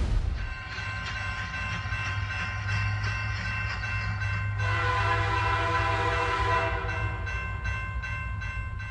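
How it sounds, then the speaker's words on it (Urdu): A railway workshop siren at a Pakistan Railways yard sounds as a loud, steady harmonic wail held through the whole stretch, swelling briefly brighter in the middle over a low rumbling background. "یہ ریلوے ملازمین اس سائرن کی آواز سے اتنے مانوس ہیں"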